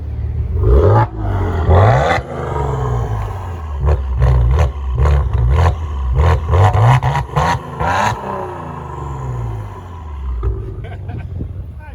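A car engine at an auction revs hard through its exhaust, close and loud, climbing and falling in repeated blips with sharp bursts before settling back toward a rough idle near the end.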